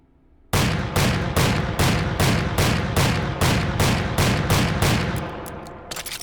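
A gun fires in the VR shooting game H3VR as a loud, steady string of about a dozen rapid shots, with the final ones trailing off slightly.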